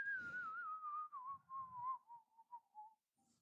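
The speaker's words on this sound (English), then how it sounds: "Are you still whistling?" A person whistles a single long, wavering tone that slowly drifts lower over about three seconds, close and fairly clear, with soft low rumbles underneath and a brief faint noise at the end.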